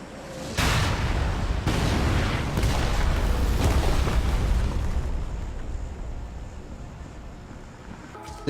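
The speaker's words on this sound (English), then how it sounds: "loud sirens and loud bomb noises occupy the sound table of the map" Bombs blast buildings in the PUBG Karakin map, a video game, as a heavy, rumbling explosion roars in loudly with a couple of further booms, then decays slowly into a long fading roar.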